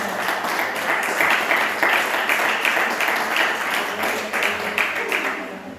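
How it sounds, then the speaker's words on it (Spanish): A congregation applauding for the Lord during a church service, a sustained wash of many hands clapping at moderate distance with faint voices mixed in. "Si usted quiere darle ese aplauso al Señor, déselo"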